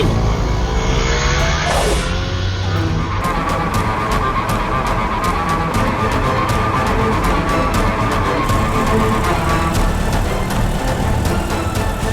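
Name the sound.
car driving off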